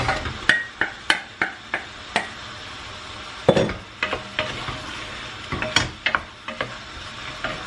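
Meatballs frying in a pan with mashed mushrooms, a steady sizzle broken by frequent sharp scrapes and clicks of a utensil stirring, close and fairly loud, no talking.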